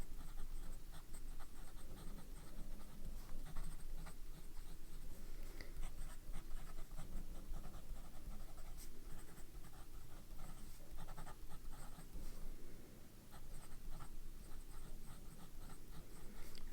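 Fountain pen with a medium nib, inked with Noodler's Black Swan in Australian Roses, scratching steadily across paper at close range, a soft continuous scritching with faint room hiss behind it.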